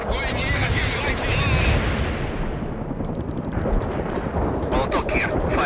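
Artillery fire in the World in Conflict strategy game rumbles as a dense, continuous barrage of booms and crackling gunfire, loud and layered throughout, with radio-style voices talking in the middle.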